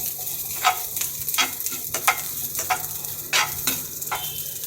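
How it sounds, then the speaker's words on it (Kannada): Onions frying in a pan for a paneer dish, with a steady sizzle under repeated scraping stirs about every half second, close and moderately loud, no voices. "ನೆಕ್ಸ್ಟು ದೊಡ್ಡದಾಗಿರೋ ಈರುಳ್ಳಿ,"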